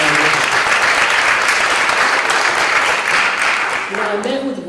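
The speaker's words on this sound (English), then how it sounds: "How about a round of applause for them?" A school board meeting audience breaks into loud, sustained applause, a dense continuous clatter of many hands that carries on without a pause and tapers slightly at the end.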